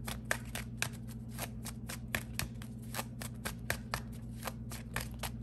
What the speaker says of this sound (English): I'll let you guys see me shuffle.